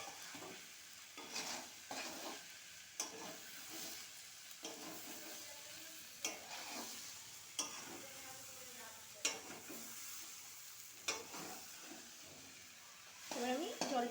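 Boiled peas being stirred in a frying pan, a utensil scraping in irregular strokes over a soft sizzle, fairly quiet and close, with a brief scrape flurry near the end.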